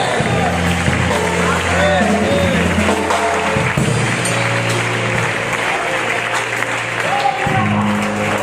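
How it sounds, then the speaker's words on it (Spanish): Church congregation clapping during a Spanish-language sermon, loud and continuous hand claps mixed with music and voices, a busy, reverberant worship-hall sound with people talking and singing over it. "Aplaude a tu Dios, aplaude."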